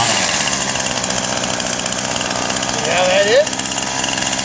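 A weed eater's small two-stroke engine runs steadily at held throttle, its buzzing drone continuous and close, with a person speaking over it near the end.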